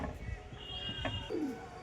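A pigeon coos in a loft, low throaty calls rising over a steady murmur of background noise, heard at moderate distance.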